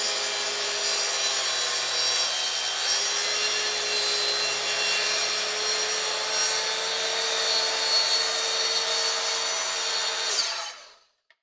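A Kreg Adaptive Cutting System track saw cuts through wood, a loud steady whine that holds for about ten seconds and then winds down to silence.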